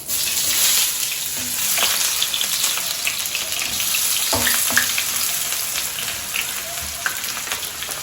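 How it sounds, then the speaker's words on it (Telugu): Onions frying in hot oil for a prawn fry, a steady broad sizzle with occasional pops and stirring scrapes, continuous and fairly loud throughout. "చూడండి, ఇప్పుడు నూనె కాగిందండి. ఒక 5 నిమిషాలు ఇదిగో ఉల్లిపాయ వేయించుకుందామండి."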